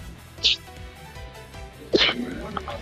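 A cartoonish sneeze sound effect from the Ace Attorney Investigations video game, heard twice: a short sharp burst early on and a second louder one near the end, over quiet background game audio.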